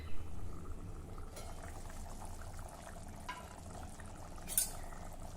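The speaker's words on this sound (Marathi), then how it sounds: "आता मऊ होईपर्यंत आपल्याला रश्श्यामध्ये शिजवून घ्यायची आहे." Moth beans (matki) simmering in curry broth in a pot, a quiet, steady low bubbling with a couple of faint clinks and a brief hiss, no talking.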